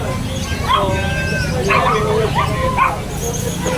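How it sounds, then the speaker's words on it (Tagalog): Several dogs at a pet shop in a Robinsons mall yip, whimper and bark in overlapping bursts close by, with people talking and crowd babble underneath. "Ngayon lang ako nakakita ng ganito na iba't ibang uri ng mga aso at pusa"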